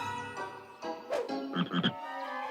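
Cartoon frog choir croaking in deep, low voices, several rhythmic croaks rising in loudness toward the end, with no talking.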